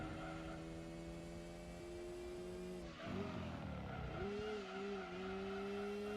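A Mazda RX-7 rotary engine in Gran Turismo drones with a thin, buzzy whine that holds steady, dips briefly as it shifts, then climbs again, close and loud with no talking.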